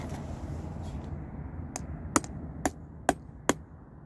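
Four sharp hammer taps spaced about half a second apart, peening over a fastener on a leather hatchet sheath, sounding close and fairly crisp above a low steady background hum.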